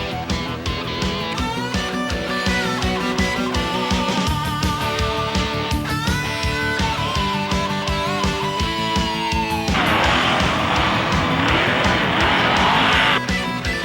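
Monster truck engines roar at a show alongside blaring music, with loud revving and a harsh noisy burst near the end, dense and continuous throughout.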